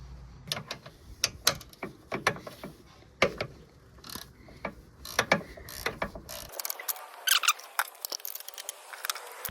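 A ratchet wrench turns the gear-oil fill plug on a Can-Am Defender Max HD10 Limited UTV, giving rapid, uneven runs of sharp metallic clicks up close, with short pauses between bursts.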